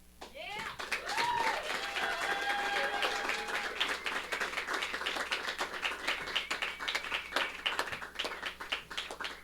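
An audience at an outdoor garden open mic applauds a poetry performance with dense, steady clapping that lasts the whole stretch, with a few brief whoops rising above the hands.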